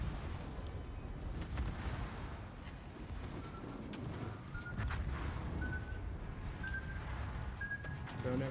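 Naval guns firing in the World of Warships video game, a steady rumble of heavy shell fire and booms filling the background for several seconds, with brief tonal blips rising above the din.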